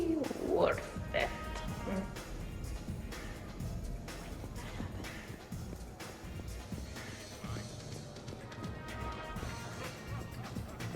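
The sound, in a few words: glass shattering in the video game Mass Effect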